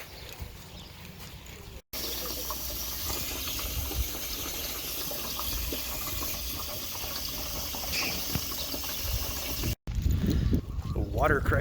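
Water gushes steadily into a large water tank at a potable water station, a loud continuous rushing fill with brief cuts and a louder splashing burst near the end.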